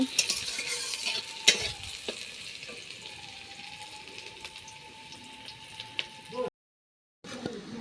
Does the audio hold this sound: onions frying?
yes